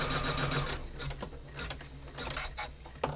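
An embroidery machine stitches a large in-the-hoop wallet design, its needle running in a steady rapid mechanical chatter with a continuous motor hum, close up and alone.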